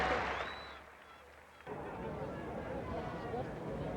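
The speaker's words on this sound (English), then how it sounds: "The crowd asking for a 4" A distant crowd at a 1977 England–Australia Test cricket match in England, a diffuse steady roar of applause and calling that swells after a brief lull, heard under a commentator's voice.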